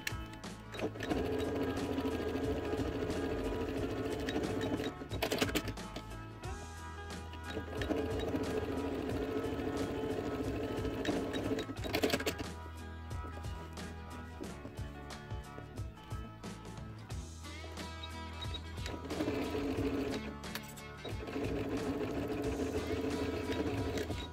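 A sewing machine runs a zigzag stitch along the side of a pocket on a fabric pouch, whirring in several sustained bursts separated by short pauses.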